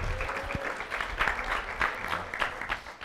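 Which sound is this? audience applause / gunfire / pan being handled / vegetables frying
audience applause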